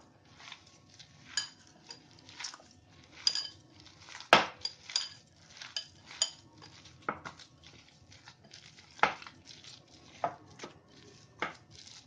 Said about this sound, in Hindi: अब इसको मैं हाथ से ही मिक्स करती हूँ